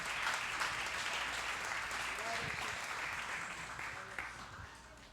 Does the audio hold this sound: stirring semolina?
no